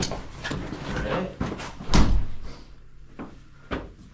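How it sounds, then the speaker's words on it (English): A heavy car door at a car dealership swings shut with a solid thud, followed by smaller knocks and handling noises close by, amid background room noise. "That's a heavy door."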